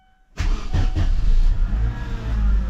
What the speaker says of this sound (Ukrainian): запуск холодного двигуна через тиждень простою. Давайте заведемо її.